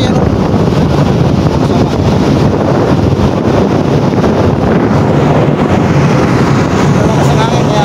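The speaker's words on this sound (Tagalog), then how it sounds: "Lakas ng hangin dito. Bagyo kasi yan." Strong typhoon wind hits the coast at Tagoloan, Cagayan de Oro, roaring loud and constant as it buffets the microphone, with surf or boat noise mixed in and a brief spoken word.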